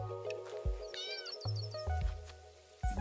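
A hungry kitten in the video game Dordogne gives a few short, high meows over soft game background tones and low bumps, close and clear.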